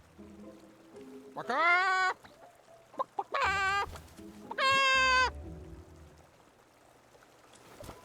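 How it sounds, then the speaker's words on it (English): A giant Barasant creature in the video game Infinity Nikki clucks in three loud, squawking bursts, each rising then holding a bright, bird-like tone, with quiet pauses and faint background noise between them. "Let me jump up and see if this giant Barasant clucks."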